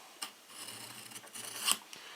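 A kitchen knife with a chipped blade is drawn tip-up through a Smith's sharpener, giving a quiet, rough rasping scrape with a few sharper catches, close and alone.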